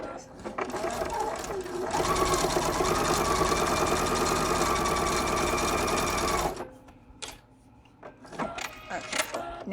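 A sewing machine stitches fabric in one fast, even whirring run lasting several seconds, then stops, leaving quieter clicks and handling noises, with talk nearby.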